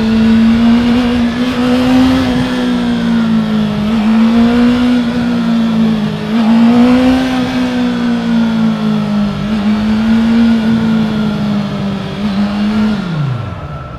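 A motorcycle engine hums loud and steady during a night ride through New York City, pitch rising and falling with gentle revs and wind rush, ending in a drop as the bike slows.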